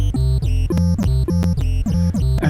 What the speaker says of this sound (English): what's known as triangle kicks